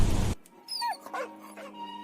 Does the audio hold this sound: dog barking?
yes